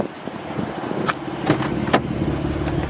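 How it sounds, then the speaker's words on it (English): Air suspension on a BMW F8X car venting as it is lowered to fully aired out with a manual setup, a sustained hiss with several sharp bursts of released air, loud and close. "Now I'm gonna air out the car just to show you guys how it looks completely aired out."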